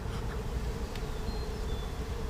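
Honey bees hum in a steady, close drone at an open hive during an inspection, a soft continuous buzz with occasional individual bees passing nearby and no talking.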